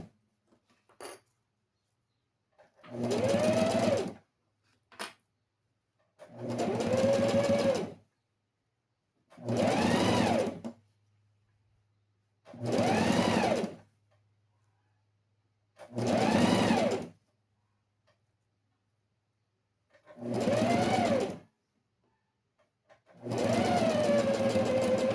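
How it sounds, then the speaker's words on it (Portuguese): A sewing machine runs in seven separate bursts of steady whirring, each lasting about one to two seconds with pauses between, as a first seam is stitched on a DIY school pencil case. No one speaks. "A nossa primeira costura, eu estou usando o ponto de número 3."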